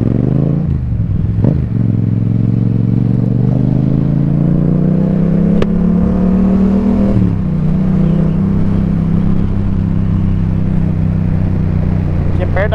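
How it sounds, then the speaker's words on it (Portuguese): A delivery motorcycle accelerates through London traffic on City Road, its steady engine drone rising in pitch as it picks up speed, loud and close, with someone talking over it throughout. "Aqui vai abrir, eu tenho que acelerar"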